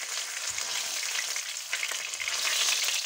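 Mushrooms sautéing over fairly high heat in a pan for a quick stew of paprika chicken, giving a steady, close, loud sizzle and crackle with faint stirring bumps and no talk throughout.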